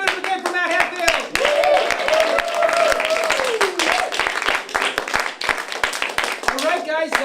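Dense, steady clapping from a comedy show audience applauding comedian Matt Hatfield, continuing throughout while a host speaks over it.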